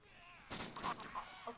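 A single gunshot fires in the zombie survival game Aftermath during a multiplayer server event: one sharp, fairly faint blast with a short rumbling tail.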